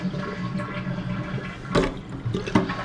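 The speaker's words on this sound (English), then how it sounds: "Then flush the toilet." Mansfield toilet flush valve being flushed with the handle held down after the water supply is shut off, a steady rushing wash of water with a couple of louder gurgling surges near the end, close and without talk.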